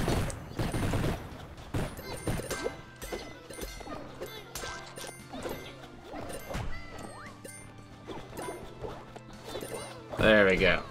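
A bomb blowing up rocks in the dungeon-crawler game UnderMine gives loud crashing bursts near the start and again near the end, over a busy bed of game sounds and music.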